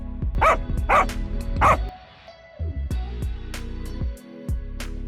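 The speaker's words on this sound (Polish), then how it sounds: "szczekaj! Uspokój się, Fluffy!" A dog in the video game Toca Boca barks three times in quick succession, loud and close, followed by softer yips and whimpers with quiet gaps between.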